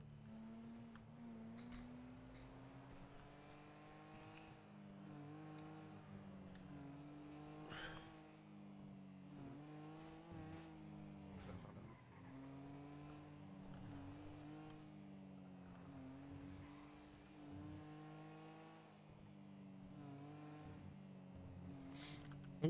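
A car driving steadily in a video game, its engine droning at a fairly constant pitch with small rises and dips and an occasional faint tire noise, quiet and continuous with no talk.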